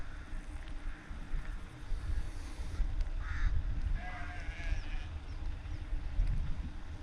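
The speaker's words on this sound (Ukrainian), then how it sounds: "Ой, тут є вівці, бігають овечки." Several faint sheep bleats from a small running flock rise over steady outdoor rumble and wind, scattered and somewhat distant.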